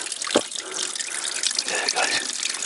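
Spring water trickling into a bottle at a source on the Holy Jim hiking trail, a steady close splashing flow running through the whole stretch with no talk over it.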